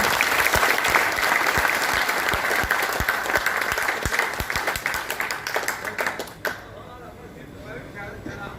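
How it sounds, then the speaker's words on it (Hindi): Loud, dense applause from an audience at a hotel's 25th anniversary celebration, with sharp individual claps standing out before it thins and stops abruptly near the end, leaving quiet room noise. "उसके लिए एक जोरदार तालियां हो जाए"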